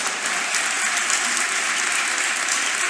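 A lecture audience at a talk on women's freedoms breaks into sustained applause, a dense, even wash of clapping from a sizable crowd that holds steady for the whole stretch.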